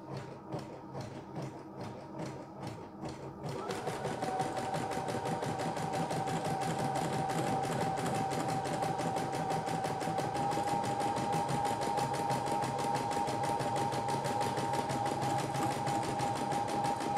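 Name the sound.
CNY E960 multifunction embroidery machine stitching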